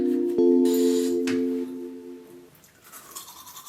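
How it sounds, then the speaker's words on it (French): Tooth brushing with a toothbrush: a steady buzzing hum for about two seconds, then quieter scrubbing and rustling noises close by, with no voices. "Je pars me brosser les dents."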